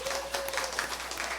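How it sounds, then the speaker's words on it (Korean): A church congregation claps in welcome during a worship service, a steady, dense patter of many hands filling the room without a break. "우리 환영의 박수 한번."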